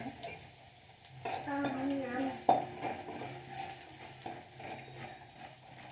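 Roasted peanuts being stirred in a pan of oil for puffed rice chiwda, with a faint sizzle, scraping spoon strokes and a sharp metallic clink of utensil against pan, close by.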